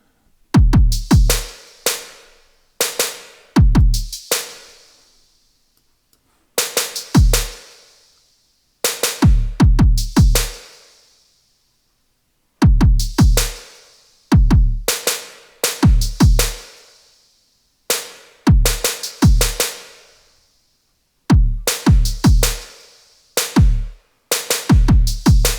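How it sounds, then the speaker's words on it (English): Sparse programmed drum beat built from kick, snare and hi-hat, loud and isolated, with short clusters of hits separated by gaps of silence in a loose, splicey groove. "it's just like a kick, snare, hat, something that's kind of just like splicey"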